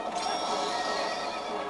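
A horse in Zelda: Twilight Princess HD gives a loud, close whinny lasting under two seconds, heard alone without talk.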